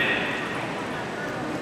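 Horses under saddle in Western tack at an equine education day parade of disciplines give a steady, moderate patter of hoofbeats on the ground beneath an announcer talking over a loudspeaker.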